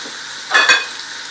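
Onion and whole garlic cloves fry in a pan of hot oil, giving a steady sizzle with one brief louder surge of stirring in the middle.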